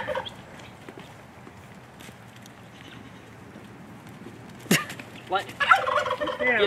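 A duck being chased by a dog on an evening outing lets out loud, harmonic squawking calls near the end, after a stretch of quiet outdoor background and a sharp knock.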